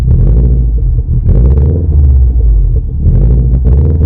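A Subaru Impreza WRX's engine runs close by during a sound check after a repair, a loud, deep, steady rumble with a few swells in revs and no talk.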